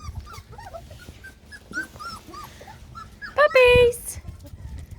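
Three- to four-week-old Springer Spaniel puppies give soft, high whimpers and squeaky yips scattered close by, with a louder cry near the end and a person's voice underneath.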